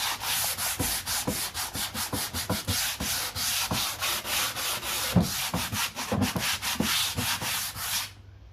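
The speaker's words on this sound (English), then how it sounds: "So I'm going to distress it real good. So I've just got, this is a 120 grit." Furniture being sanded by hand with 120 grit sandpaper to distress the finish, a steady rasping scrub in quick rhythmic back-and-forth strokes, close and continuous, with no talk.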